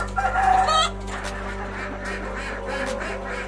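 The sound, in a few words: imported laying chickens clucking and crowing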